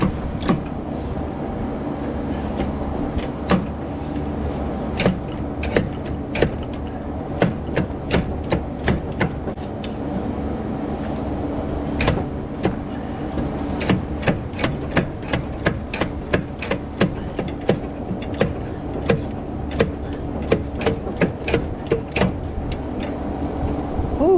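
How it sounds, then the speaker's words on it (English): Engine crankshaft of a 1976 Chevy LUV truck being rocked back and forth with the connecting rods loosened but left in place, giving repeated sharp metallic knocks and clunks at an irregular rhythm over a steady low hum, close by. "I've loosened all the rods, I left them in place, and I've just been rocking this crank back and forth."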